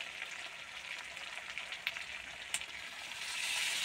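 Chicken curry made with stone-ground spices, village style, hisses and sizzles steadily in the pan as water is poured in, the sizzle swelling louder toward the end, with no talking.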